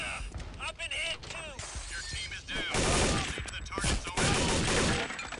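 Gunfire in an older Counter-Strike level set among ruins, with bursts of shots and crashing impacts crowding the second half, while someone talks over the first part.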